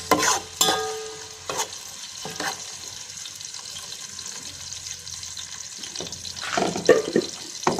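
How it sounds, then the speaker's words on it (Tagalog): Garlic browns in a pan under a steady, close sizzle, with a few sharp spatula scrapes and clatters at the start and a burst of stirring near the end. "ipa-brown muna natin bawang no bago natin ilagay ang sibuyas"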